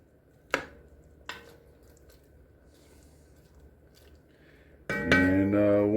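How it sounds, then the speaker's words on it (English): Onions being broken apart in a pan with mushrooms, two sharp scraping taps followed by quiet stretches, then a steady louder sizzle and hiss near the end. "Go ahead and break apart your onions as much as possible."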